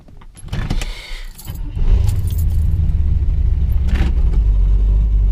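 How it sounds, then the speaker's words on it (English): A carbureted Camaro engine after a fresh build. Keys jangle first, then the engine catches with a loud, close, uneven surge that settles into a heavy rumble, with no talking. "there's that carb stumble"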